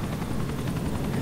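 Helicopter in the video game GTA 4, a steady close rotor drone with a rapid rhythmic chop carrying through the whole stretch, loud and unbroken, with no talking over it.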